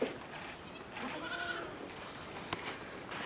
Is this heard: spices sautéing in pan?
no